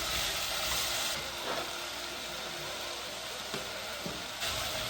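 Hot extra virgin olive oil sizzles steadily in a pot, a constant close crackle broken by a few soft ticks and pops.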